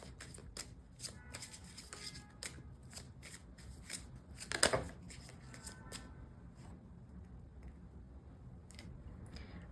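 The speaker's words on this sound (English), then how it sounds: "we will pull out more cards from the Island Time Wellness Love Oracle cards" Island Time Wellness Love Oracle cards being shuffled by hand: a quiet, steady run of soft riffling slaps and card flicks with one brighter snap in the middle, no talking.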